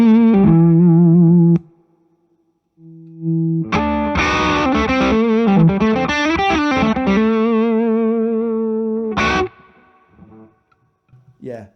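An electric guitar played through a Nobels ODR-1 overdrive pedal gives a sustained overdriven chord, a short pause, then a gritty run of notes ending in a final strummed chord.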